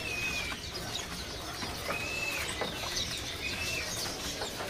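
Small pleci white-eye birds chirp at a bird kiosk, repeated thin whistles and short high calls over a busy background of other birds and rustling.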